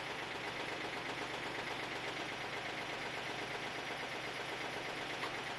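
A new backhoe's engine idles at low RPM with a constant, dense rumble and slight rattle, steady and close throughout with no voices.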